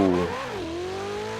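Ferrari 488 Pista engine in Forza Horizon 4 at high revs, a loud, smooth harmonic whine that drops briefly with a shift, then settles into a steady high-revving tone.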